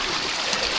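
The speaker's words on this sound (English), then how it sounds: "So this water is just flowing down to the lake that's just beyond those trees there" Wilderness stream near Halifax, Nova Scotia, running down toward a lake beyond the trees: a steady, fairly loud rushing babble of flowing water, close and continuous with no voices.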